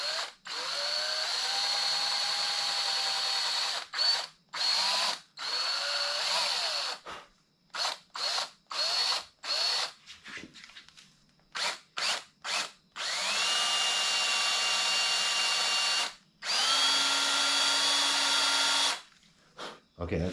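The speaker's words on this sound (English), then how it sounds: "We're drilling a hole in a cantilever frame." An electric drill runs in short, stuttering bursts through a 1981 Huffy cantilever bike frame, trigger pulsed on and off, then settles into two longer continuous whirring runs near the end.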